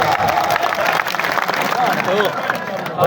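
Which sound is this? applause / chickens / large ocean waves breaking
applause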